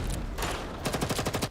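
Dense automatic gunfire from a machine gun in the Girls Frontline 2 video game, with rapid bursts of shots rattling in quick rhythm over a loud battle din.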